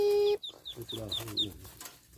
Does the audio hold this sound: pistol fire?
no